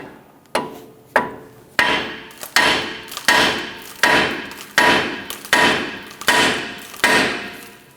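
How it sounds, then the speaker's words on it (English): A hammer strikes the steering knuckle of a 1997-2006 Jeep Wrangler to free the tie rod end, about ten loud, close metallic blows in a fairly steady rhythm, each ringing briefly before the next. "we're going to go ahead and strike the knuckle here."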